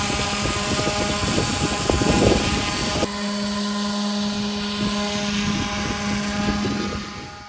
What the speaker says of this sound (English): Jeff is starting the sanding process over on the side deck.